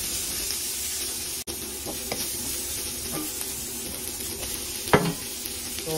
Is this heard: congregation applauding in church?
no